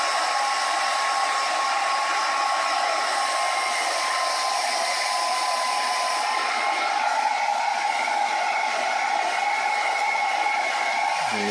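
A heat gun blowing air on its cool setting, a continuous loud rushing hiss with a faint steady whine, running unbroken close by and cutting off at the very end.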